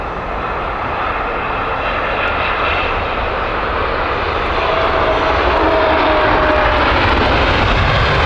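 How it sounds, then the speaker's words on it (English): An Emirates Boeing 787-10 airliner arriving at Heathrow, its loud, continuous engine roar building steadily and growing nearer toward the end, with a faint whine rising partway through. "Emirates inbound next."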